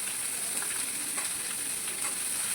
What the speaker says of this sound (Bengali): দিয়ে একটু হালকা হাতে নেড়ে চেড়ে এটাকে ভেজে নেবো